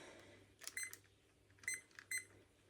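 A kitchen timer found while cleaning a messy house gives three faint, short electronic beep bursts spaced about a second apart over quiet room tone, with no voices.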